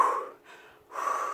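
Rhythmic Lamaze-style breathing, two breathy exhalations with a softer inhale between, close and alone with no other sound.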